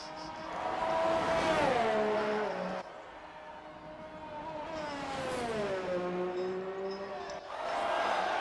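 A race car engine in the RSF1 racing video game pulls out of the pits. Its pitch rises and falls through several up- and downshifts, staying loud and steady across the whole stretch.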